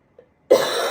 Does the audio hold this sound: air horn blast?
no